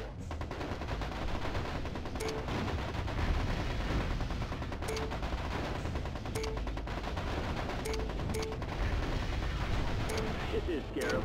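Mech weapons fire in the MechCommander Gold strategy game, with dense, continuous battle noise and repeated short bursts and blasts throughout, a steady loud combat din under which a voice speaks.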